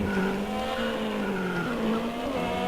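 Lamborghini Veneno supercar driving in the Roblox Vehicle Simulator game, a steady, loud synthetic engine drone with a shifting pitch and a tire-squeal edge, continuous throughout with no talk.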